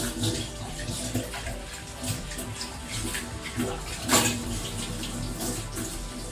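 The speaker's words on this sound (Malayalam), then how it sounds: "അങ്ങനെ ആ പ്ലേറ്റും കഴുകി മാറ്റിയിട്ടോ." A plate is washed under a running kitchen tap, steady splashing water with clinks and scrapes of the dish, one louder clatter near the end, close and continuous.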